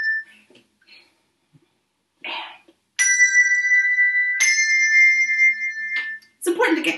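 English handbells ring out in two clear, sustained strikes a moment apart, each leaving a bright, pure tone that hangs and slowly fades, with faint breaths and small movements before them.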